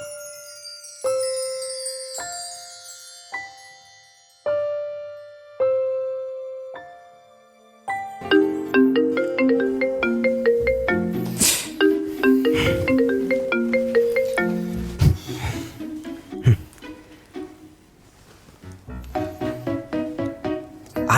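A phone ringtone plays as a melodic electronic tune, starting with a few sparse chiming notes and then swelling into a fuller, louder repeating melody that continues steadily throughout, with no voices over it.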